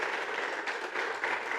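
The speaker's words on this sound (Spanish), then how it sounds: "Denle un aplauso al Señor." A church congregation applauds during a sermon, a dense, even wash of clapping at moderate level, steady and unbroken, heard from within the room.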